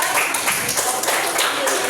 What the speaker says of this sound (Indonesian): Bisa tepuk tangan untuk kelompok 4